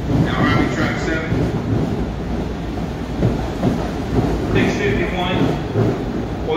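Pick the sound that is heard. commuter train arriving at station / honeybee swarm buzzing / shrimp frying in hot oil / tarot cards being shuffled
commuter train arriving at station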